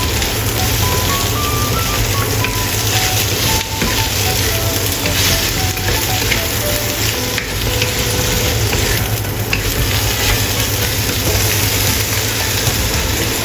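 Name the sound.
okra stir-frying in a wok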